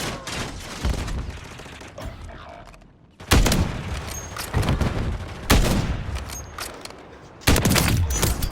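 Video game gunfire from a Plunder match with a sniper rifle, sounding as several loud, sharp bursts with long decaying tails spaced a few seconds apart, over a busy background of distant shooting.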